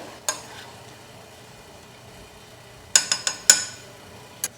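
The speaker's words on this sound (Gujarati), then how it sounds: "ફરી એકવાર મિક્સ કરી લઈએ" Stuffed brinjal and potato curry being stirred in a pressure cooker pot after water is added: a quiet low bubbling bed broken by a few sharp metallic clinks, one early and a quick cluster near the end.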